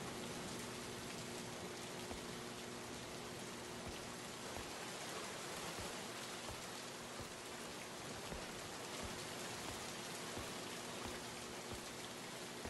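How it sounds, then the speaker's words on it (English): Steady rain falls in the video game Tangles at an abandoned military camp, a continuous even hiss of drops that holds at a constant level throughout with no voices. "The rain suddenly stopped."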